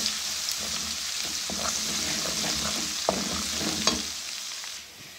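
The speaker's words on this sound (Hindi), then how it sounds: "इसमें जिंजर गार्लिक पेस्ट वो ऐड कर लेंगे। थोड़ा सा इसको भूनेंगे।" Onions already light golden sauté with a spoonful of ginger garlic paste in a pan for a Punjabi-style rajma lobia salan, a steady sizzle and hiss broken by a few sharp spoon scrapes, close and alone with no talk.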